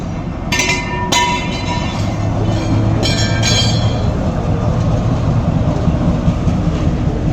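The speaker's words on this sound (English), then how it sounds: "these trains break down often and have to be pulled by a loco" A Tunisian DMU railcar set, broken down and hauled as wagons by a diesel locomotive, rolls past with a loud continuous rumble. Brief metallic wheel squeals and clanks rise early on over the steady roar.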